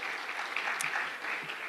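Audience applause in a lecture hall, a steady patter of clapping from a crowd that holds evenly for under two seconds with no voices over it.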